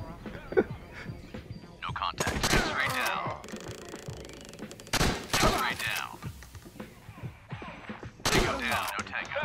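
Several loud, booming shotgun blasts in separate bursts, spaced a few seconds apart, in the video game Door Kickers, with a voice talking between them.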